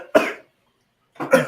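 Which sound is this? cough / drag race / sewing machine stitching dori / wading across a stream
cough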